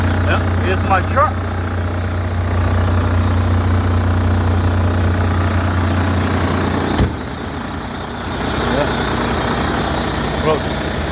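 A work truck's engine idles with a low, steady rumble close by, holding a constant drone before a sharp knock, then continuing more quietly.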